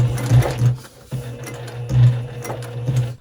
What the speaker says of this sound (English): I'm sewing the last line of stitching of the square